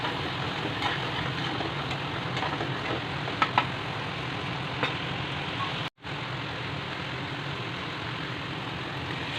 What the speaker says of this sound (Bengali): দিয়ে আবার একে ভালো করে নেড়ে চেড়ে কষলাম